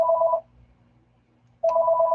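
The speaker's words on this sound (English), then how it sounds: "Of course, there's always a phone call." A telephone rings in a home craft room, a bright electronic warble that cuts off partway, then resumes after a short pause, clear and fairly close with no talking.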